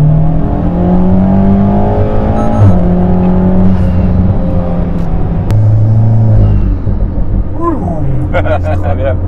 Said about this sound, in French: Même la ligne, hein, ça ronfle beaucoup plus